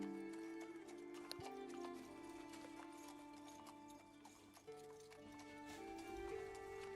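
Horse hooves clip-clopping in a steady trot with occasional neighs, set against a layered musical bed in a fantasy tabletop game session, moderately loud and continuous throughout.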